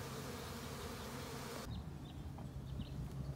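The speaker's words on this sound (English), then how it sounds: "these are called orientation flights" Honey bees making orientation flights around their hive, a dense steady buzzing swarm close by, with individual bees zipping past more distinctly as the sound drops slightly partway through.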